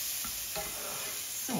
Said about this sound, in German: So, ihr seht, genau, für die Füllung auch alles in der Pfanne. Der Speck ist schon ganz schön krosch.